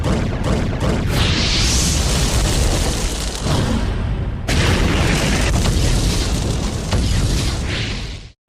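Fireworks explode loudly and close, a dense run of booms, crackles and bursting pops that carries on almost without pause for several seconds and then cuts off abruptly.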